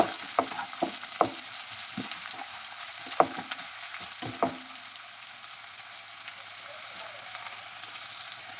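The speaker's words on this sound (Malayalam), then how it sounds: "അതിനുശേഷം ഒരു ചെറിയ ഉള്ളി കട്ട് ചെയ്തിട്ട് കൊടുക്കാം. ഉള്ളി ഒന്ന് വാടി വരട്ടെ." Chopped onion for rava upma sautés in a pan. Several sharp spatula knocks and scrapes come in the first half, then it settles into a softer, even sizzle.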